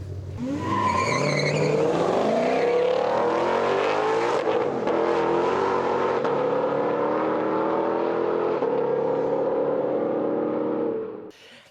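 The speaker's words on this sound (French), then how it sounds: "la voiture, la Super Snake, là, est vraiment à accélération" A Super Snake drag racing car at a drag strip event roars as it accelerates hard, its loud engine note climbing steadily and holding at full power before cutting off at the end.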